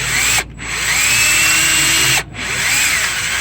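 A power drill bores out EGR bolts on a 6.7 engine, whining loud and steady at close range with two brief pauses where the trigger lets off before it spins up again.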